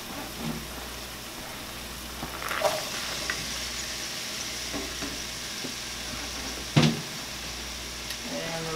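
Onions, beans and corn sizzle steadily in a pan for a veggie quesadilla. The frying hiss continues under occasional soft stirring clunks and a low background hum.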